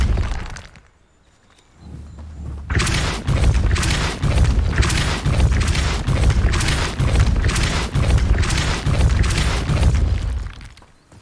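A rapid barrage of fiery Confringo spell explosions in Hogwarts Legacy, loud booming blasts with shattering crackle following one another in quick rhythm after a brief near-silent lull.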